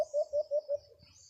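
A male sunsun bird gives a clear call of four evenly spaced, pure whistled notes, faint and alone against a quiet outdoor background.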